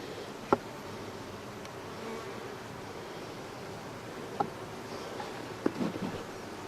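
A steady, low hum of many honeybees buzzing close by during a hive inspection, with a few sharp clicks and knocks from the hive frames breaking through.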